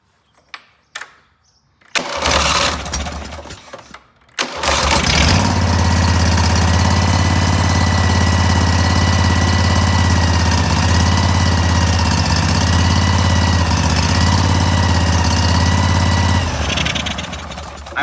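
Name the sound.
Cub Cadet 682 lawn tractor engine restarting and idling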